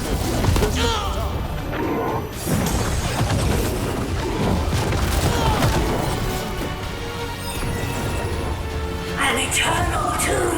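Blight missiles explode in Dragon Age: The Veilguard, where loud crashing impacts and thuds pile onto a busy battle din, with voices speaking intermittently over the chaos.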